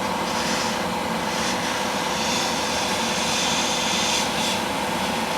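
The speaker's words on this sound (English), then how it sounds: "just blowing air now" Airbrush blowing a continuous stream of air to dry paint on a Tamiya 1/6 Yamaha YZ250 motocross model, a steady loud hiss with slight swells, close and unbroken throughout.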